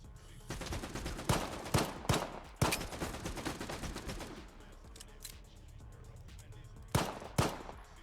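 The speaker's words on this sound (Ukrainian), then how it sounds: "Звідки ви в мене стріляєте" Gunfire in the video game Stalker 2 comes as a dense burst of rapid shots, then a few sharp, loud single cracks stand out over a continuous crackling battle din in the background.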